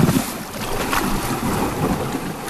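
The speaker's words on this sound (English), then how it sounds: "the water crashes up underneath them, and that's that sound that you hear" Lake water sloshes and crashes up beneath overhanging rocks on a summer day, a continuous close wash of surging water mixed with steady wind buffeting the microphone.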